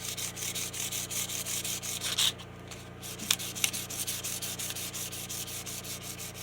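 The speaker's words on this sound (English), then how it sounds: "Might need another piece of sandpaper." Sandpaper rubbed over the cut ends of pipe to knock off burrs and sharp edges, a steady rhythmic scraping that runs continuously at close range, with a brief pause and a couple of small knocks partway through.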